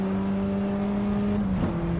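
A racing car engine in the driving simulator Assetto Corsa EVO, a steady tonal hum held at constant pitch before a quick shift and change in note, heard alone without speech.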